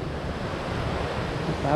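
Continuous rushing water of a flowing river near Hulugan Falls, Luisiana, Laguna, with a broad steady hiss and some wind noise over the microphone.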